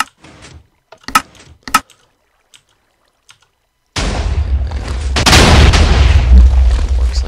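A player-built cannon from Leinadarcher's design fires in a video game: a sudden loud boom, followed by a sustained roaring rumble of blasts and debris that lasts several seconds.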